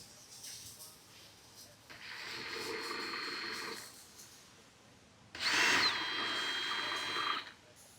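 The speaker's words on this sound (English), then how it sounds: "we can go ahead and drill them out using our 5/16 drill bit" A power drill with a 5/16 bit whirs in two sustained bursts drilling fender flare mount holes on a Can-Am Defender HD11, the second louder and closer, with quiet pauses between.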